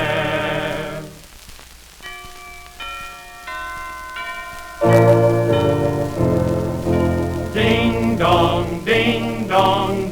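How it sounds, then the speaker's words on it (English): Christmas bells ring and chime through an old 78 rpm Christmas song recording, with sustained ringing tones, then a fuller burst of pealing chimes and music swelling partway through. "Hark, the Christmas bells are ringing and their chiming fills the air."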